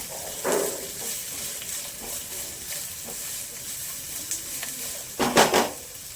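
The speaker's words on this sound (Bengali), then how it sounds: "এবার একটু ভাজা হতে দেবো।" Chopped onions frying in a pan for chicken tehari: a steady low sizzle broken by a few louder bursts of stirring and scraping, heard close up with no talk.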